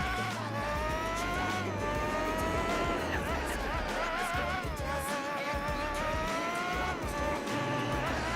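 A Formula GT race car in the Gran Turismo 4 video game screams through its gears, the high engine whine rising and dropping with each shift, continuous and loud with faint tyre squeal.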